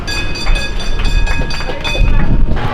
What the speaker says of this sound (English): So everyone knows San Francisco has trams